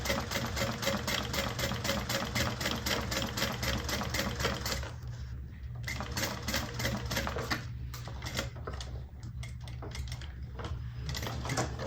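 A sewing machine stitches a bag seam about a quarter inch from an earlier row, running steadily with rapid even needle clatter, pausing briefly midway, then resuming in shorter bursts, close and loud with no talk.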